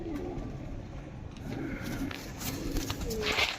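Low cooing from a pair of rare pigeons rises and falls in soft repeated rolls, with a few brighter chirpy notes near the end against faint room noise.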